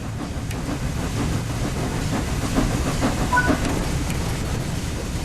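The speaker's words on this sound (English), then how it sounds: "Now that the locomotive is moving, you can open the regulator some more." A steam locomotive on the East Coast Main Line in Train Sim World 4 rumbles and hisses steadily as it gets moving, with faint rhythmic clatter from the rails and no talk.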